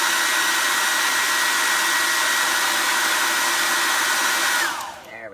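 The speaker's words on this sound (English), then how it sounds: "I'm going to take the hairdryer to that real quick" A hair dryer blows steadily and loudly on chalk paste over a chalkboard for about five seconds, then switches off and winds down at the end.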